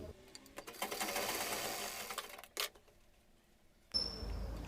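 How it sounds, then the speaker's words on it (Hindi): A sewing machine stitches the bust dart of a gown, a fast whirring run that stops abruptly, followed by a brief clack and softer mechanical handling noise. "अब हम ब्रस्ट के डाच पे सिलाई लगा लेंगे।"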